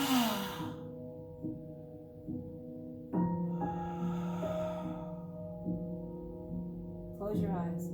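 A long, audible exhale during a guided breathing exercise, a breathy sigh near the start over a sustained tonal music bed, followed by further soft breaths.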